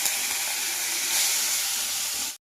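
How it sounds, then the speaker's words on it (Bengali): Shrimp frying in hot oil in a wok, a steady close hiss of sizzling oil holding even and loud for about two seconds before cutting off abruptly, with no talking. "দেখো এবার কড়াই তেল দিয়ে দিয়েছি, তেল গরম হয়ে গেছে। আমি চিংড়ি মাছগুলো ভালোভাবে ভেজে নেব।"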